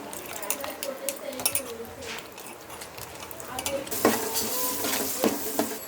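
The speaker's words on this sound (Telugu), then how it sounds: "ఉల్లిపాయలు వేగిపోయినాయి" Onions sizzle in a hot pan for a tamarind fish curry, with steady frying hiss, close stirring scrapes and occasional utensil clinks throughout.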